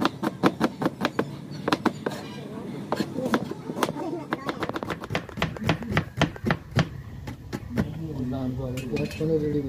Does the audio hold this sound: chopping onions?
yes